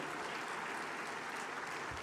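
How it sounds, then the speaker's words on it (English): An audience at a large formal annual meeting bursts into sustained applause, a dense, even wash of clapping hands continuing steadily throughout, heard from a distance. "Please, another resounding round of applause."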